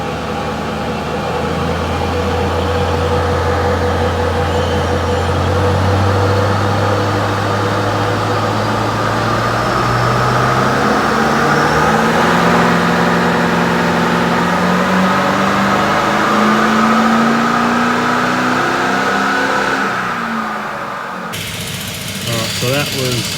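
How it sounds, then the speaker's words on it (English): A Toyota 200 Series Landcruiser engine fitted with +30 injectors runs on a dyno, a loud steady drone rising gradually in pitch through the run before cutting off near the end. "So it's going to be a little bit loud because we're on the dyno"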